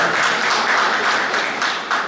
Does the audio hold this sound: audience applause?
yes